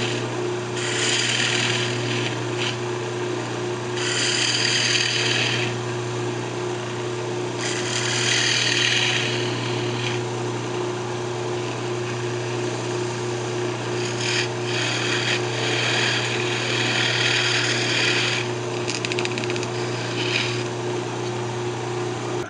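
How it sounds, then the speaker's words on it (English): A hand drill held in a chuck on a lathe tailstock bores into a wood perfume bottle blank, giving repeated bursts of scraping, grinding cuts over a constant motor hum, with no talking. "I just took a drill and drilled down in it with the drill chuck on the tailstock"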